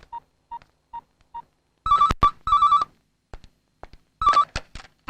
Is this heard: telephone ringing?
yes